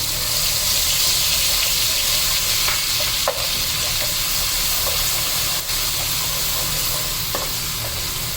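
Steady sizzling of ginger garlic paste frying in a hot pan for aloo baingan, continuous and close, with occasional soft clicks of stirring.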